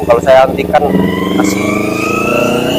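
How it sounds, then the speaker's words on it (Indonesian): A loud motorcycle engine revs close by, rising into a sustained droning whine, while someone talks over it at the start. "Motor kamu itu bising sekali."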